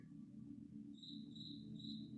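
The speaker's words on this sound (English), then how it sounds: "He's just brazenly chirping." A cricket indoors in a house gives three short, high chirps at a steady pace, faint against a low hum of room noise.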